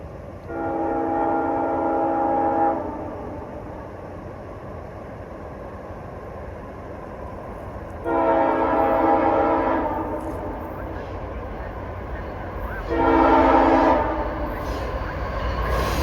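A freight train's S5T horn sounds in three long blasts separated by pauses, loud over a steady rumble of rail noise.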